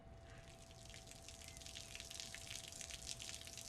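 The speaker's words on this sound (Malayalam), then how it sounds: "ടാങ്ക് നിറഞ്ഞ് വെള്ളം വീഴുന്നു" Water spills steadily from an overfilled household tank while a pump motor keeps running, a continuous splashing gush with scattered drips, heard from a short distance and fairly quiet, with no talking.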